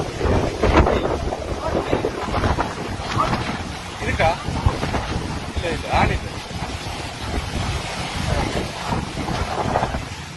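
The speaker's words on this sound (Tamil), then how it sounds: "அதை விட காத்து மிகவும் ஒரு பலமா அடிச்சு கொண்டிருக்குது." Strong stormy wind gusting steadily during a cyclone in Sri Lanka, loud and rumbling with constant buffeting against the microphone while someone speaks briefly over it.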